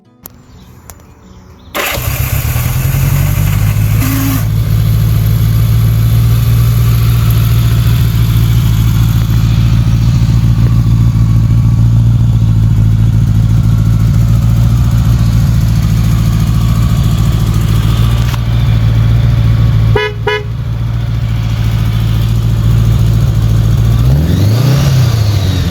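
1983 Honda GL 1100 Goldwing motorcycle with the fairings and trunks removed starts up and settles into a loud, steady idle, holding a smooth, even hum nearby, with a brief blip of throttle near the end.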